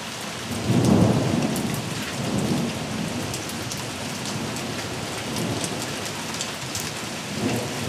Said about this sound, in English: It's raining, isn't it, Walker?